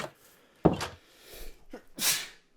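A sharp, breathy sneeze bursts out close by, followed by sniffs and a second hissing exhale.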